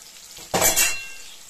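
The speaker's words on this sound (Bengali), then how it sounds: "এই যে আমি আদা বাটাটা দিয়ে দিলাম এর মধ্যে" Ginger paste drops into a pan of frying tomato masala for a potato dish, setting off one sudden loud sizzle burst that fades quickly into a softer hiss.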